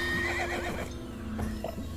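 A horse in Minecraft Legends neighs loudly and close, a long shrill whinny with a second shorter call near the end, heard alone without talk.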